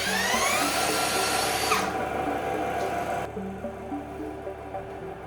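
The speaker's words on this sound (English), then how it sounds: "And now, with this cordless drill, we start the alternator moving." A cordless drill whines steadily as it spins an alternator on a homemade Liberty Engine 5.0 generator rig, loud and continuous with a high harmonic squeal that drops in pitch partway through.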